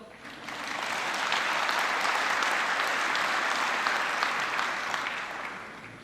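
Sustained audience applause fills a commencement ceremony hall, a dense, steady wash of many hands clapping that swells in and holds loud throughout before easing slightly at the end.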